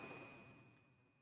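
Single bright notification bell ding, a clean high metallic chime that rings out and slowly decays on its own.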